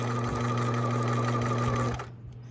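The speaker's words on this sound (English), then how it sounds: "I'm going to start by back stitching to the end, and then I'm going to just follow the line" A domestic sewing machine runs steadily at straight stitch, 2.5 length, back stitching and sewing a dart in fabric, a close, continuous motor whir that stops abruptly near the end.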